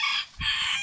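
A rooster of the Araucana breed crows close by, a loud, bright call broken by a short gap before carrying on strongly to the end.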